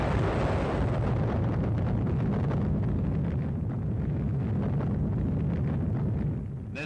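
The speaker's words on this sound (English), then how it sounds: "This nuclear test explosion is a graphic illustration of the power of the atom for peace" A nuclear test explosion blasts 7.5 million cubic yards of Nevada desert skywards with a loud, continuous, deep rumbling roar. The roar holds steadily for several seconds with a windy, rushing texture.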